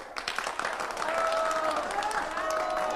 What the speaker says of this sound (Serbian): Buran aplauz!